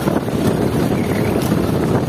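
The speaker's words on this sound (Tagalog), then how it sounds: "Lakas ng hangin!" Strong wind gusts on a boat at sea between islands as the weather worsens, producing a loud, continuous blustering roar with buffeting rumble on the microphone.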